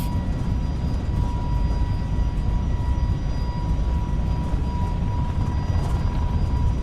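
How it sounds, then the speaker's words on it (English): Airbus A321neo jet engines spool up to takeoff thrust in Microsoft Flight Simulator, a steady, loud broadband roar with a faint high whine that holds evenly throughout. "Make sure that the engines are spooling up."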